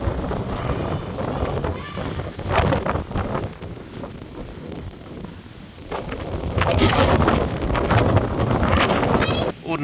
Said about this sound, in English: It's well windy.